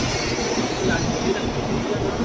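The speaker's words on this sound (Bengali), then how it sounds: "সেখান থেকে চড়বো বুলেট ট্রেনটা এসেও গেছে।" A high-speed bullet train in New Taipei City, Taiwan, rumbles and rushes in with steady roaring noise and faint wheel squeal, close and continuous throughout.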